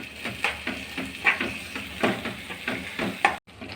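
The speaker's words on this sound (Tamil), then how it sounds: "நல்லா மிக்ஸ் பண்ணி விடலாம்." A spoon stirs pepper chicken masala in a hot pan, giving soft regular scraping strokes about twice a second over a low sizzle.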